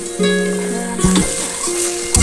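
Beef spleen and plenty of onion fry dry in a pan with no water, hissing in a bright sizzle close by, broken by a few sharp scrapes and clinks of stirring over a faint tonal hum, with no speech.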